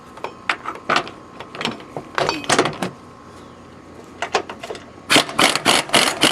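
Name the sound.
impact wrench removing rear shock nut on 2005 Tahoe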